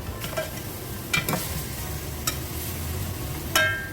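Mutton chops frying with garlic ginger paste, stirred in the pan: a quiet, steady sizzle broken by a few sharp scraping strokes of the spoon, with no voices.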